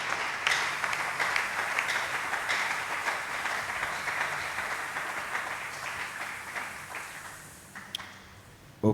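Congregation clapping together during a church service, a steady dense roll of applause that fills the room and fades out toward the end, with a sharp final clap.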